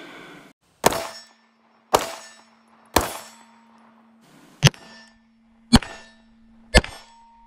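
Pistol rounds strike a steel body-plate target at a shooting range, giving six sharp, ringing clangs spaced about a second apart, each with a brief metallic decay, and no talking.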